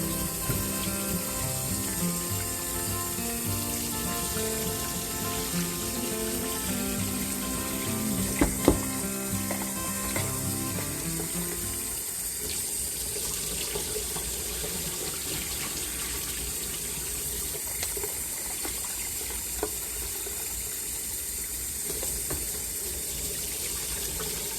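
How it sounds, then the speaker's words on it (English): Tap water running steadily into a sink while rice is rinsed, a continuous splashing stream with a brief clunk partway through, then the flow changes to a softer, thinner rush. "I'm going to rinse my rice off. Give it a good rinse."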